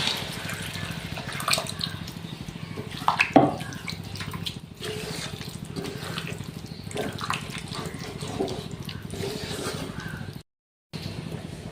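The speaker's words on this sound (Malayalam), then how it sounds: "ഇനി ഇതിനകത്തോട്ട് നമുക്ക് ജാറ് കഴുകിയ വെള്ളം ഒഴിച്ചു കൊടുക്കാം" Water from rinsing a grinder jar is poured into ground coconut paste for a bitter gourd theeyal, a steady running, splashing pour that carries on at moderate level for several seconds with small drips and clinks.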